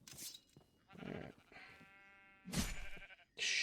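Sheep bleat in a blocky modded survival video game, several short wavering calls spread across the moment, fairly close and clear with no talking over them.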